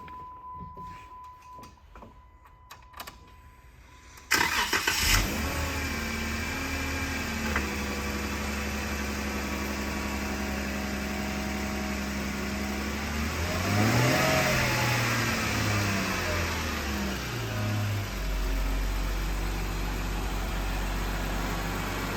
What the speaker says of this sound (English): Let me start it up so you can hear it.